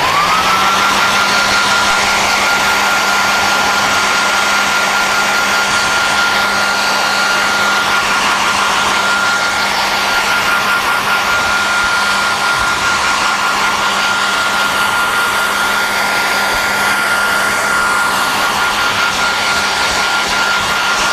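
A hair dryer blows continuously while drying hair after brushing, a loud, steady whooshing drone with a faint high whine that holds unchanged throughout.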